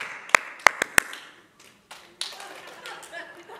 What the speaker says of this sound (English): When you're there, just clap your hands twice,